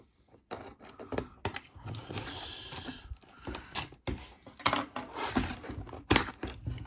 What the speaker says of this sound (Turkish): Bantları kesiyorum.